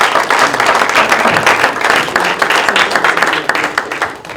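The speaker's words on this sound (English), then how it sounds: "Give Brandon a round of applause." Audience at a club meetup event breaking into applause, a dense, steady wash of many hands clapping close by, fading slightly toward the end.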